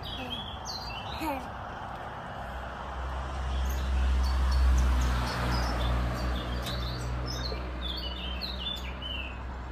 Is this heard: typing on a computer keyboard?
no